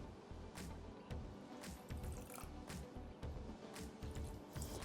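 Water poured into a pot of white sugar on a stove while making syrup for baklava, a faint continuous trickling and splashing with small bumps and knocks, close by.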